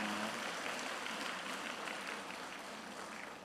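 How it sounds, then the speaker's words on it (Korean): Audience applause for a regional choir that has just sung hymns at an evening church winter-camp service. The clapping is dense and steady, sustained throughout at an even level with no voices over it. "찬양을 준비하신 강주 지역 합창단에게 큰 박수 부탁드립니다"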